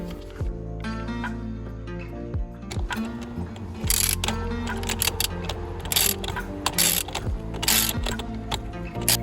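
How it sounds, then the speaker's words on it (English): A steering wheel puller on a 5th-generation Nissan Altima, 2013–2018, is tightened by its 10mm bolts, giving loud, close ratcheting and metallic clicking in a busy run with occasional sharp clanks. "tighten the 10mm bolt on both sides in the same ratio"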